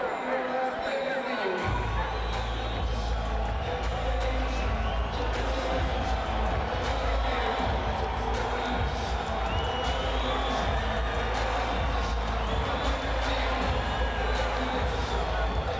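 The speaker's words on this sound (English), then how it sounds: "They don't know whether to cheer or boo, it seems." Boxing arena crowd at the James Toney vs Samuel Peter heavyweight fight, a dense, continuous roar of cheering and booing under a commentator's voice.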